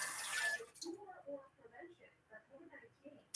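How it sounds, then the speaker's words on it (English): An egg is rinsed under a briefly running tap, a faint splashing wash that lasts under a second before a voice talks quietly over the quieter room. "I wash the egg off."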